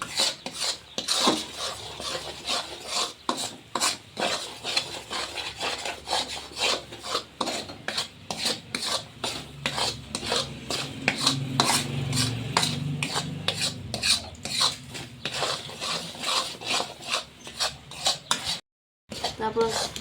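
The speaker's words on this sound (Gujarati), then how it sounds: "તો દૂધ આખું બની જાય ત્યાં સુધી આપણે થોડી વાર હલાવતા રહેવાનું છે" A spoon scrapes and stirs flour cooked in milk and ghee for mohanthal in a kadhai, a close, rhythmic rasping of repeated strokes against the pan that continues steadily with a brief pause near the end.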